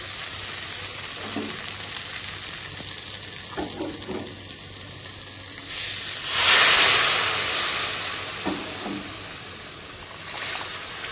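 Hot water poured into fried spice paste for a boal fish head curry makes a loud surging hiss and sizzle that swells and then slowly fades. Quieter frying crackles and a few scraping stirs come before and after it.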